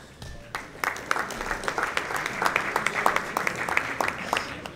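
At a high school football banquet, a few scattered claps open, then the audience joins in and the applause swells into a fairly close, steady patter of many hands.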